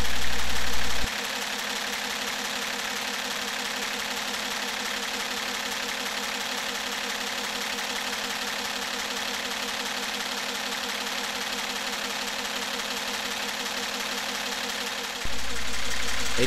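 An experimental camshaftless engine with electrically operated valves runs steadily, giving a continuous close mechanical hum with fine rapid clatter. The level stays flat, with a brief change at the start and near the end.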